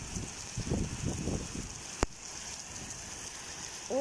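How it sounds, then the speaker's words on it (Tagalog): Heavy rain pours steadily during a rainy afternoon in Dubai, a continuous close hiss with dense drumming patter early on and one sharp knock midway, with no talk over it. "lakas-lakas ng ulan"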